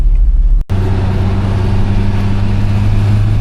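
A Citroen car drives along a road, heard from inside as a loud, steady low engine and road drone. It cuts out for a moment near the start, then holds constant with no talking.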